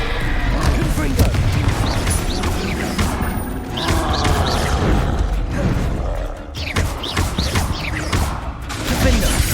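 Confringo spell blasts in the Hogwarts Legacy video game erupt as repeated booms and crashes, densely layered with rumbling combat noise, while voices call out throughout.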